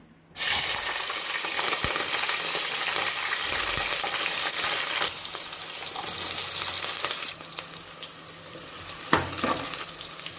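Green chillies hit hot oil with a sudden loud sizzle, frying in a steady roar for several seconds and easing slightly toward the end, with a few stirring clinks and no voices.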